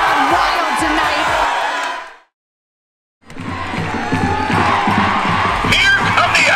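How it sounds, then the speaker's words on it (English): Loud crowd cheering and whooping at a high school football game with more than 4,000 fans, the Center Grove crowd roaring for about two seconds, cutting to a second of silence, then surging back into sustained yelling and shouting. "As you can see, the crowd wild tonight."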